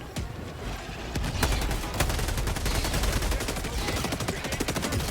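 Gunfire blasts at swarming bugs in the video game Helldivers 2 as a dense, rapid stream of loud shots, with automatic fire rattling continuously throughout and a faint voice underneath.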